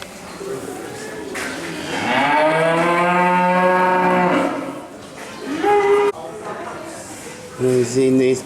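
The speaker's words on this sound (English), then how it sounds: "These Jersey cows." Jersey cows on a farm park give a long, loud, close moo followed by shorter lowing calls, with people talking around them.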